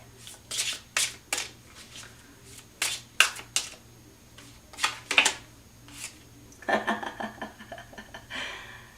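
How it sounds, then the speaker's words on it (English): Tarot cards are shuffled and drawn by hand in a run of crisp riffling bursts and soft slaps, with a longer flurry of card handling near the end and no talking. "I'm going to take one more card for this Temperance in the middle"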